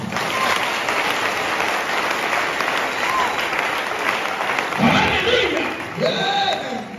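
A church congregation applauds during a pastor's sermon with loud, sustained clapping and crowd noise that swells and then tapers as voices come through near the end.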